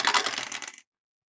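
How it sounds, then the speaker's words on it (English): Two dice rattle and tumble across a hard surface in a quick burst lasting under a second during a tabletop hockey game, then stop dead. "And we roll 2 dice"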